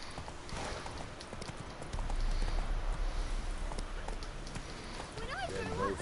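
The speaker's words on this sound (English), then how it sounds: "Whoa there, Roach." Horse hooves gallop in The Witcher video game, a steady clip-clop running throughout at moderate loudness, with a heavier stretch midway and a brief whinny-like tone near the end, layered over game ambience.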